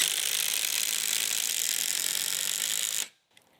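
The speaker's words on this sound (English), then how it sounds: "their impact wrench is faster than the impact driver" DeWalt Atomic impact wrench and impact driver driving fasteners into a 4x4 timber, a loud continuous rapid hammering rattle that runs for about three seconds, then cuts off abruptly, leaving near silence.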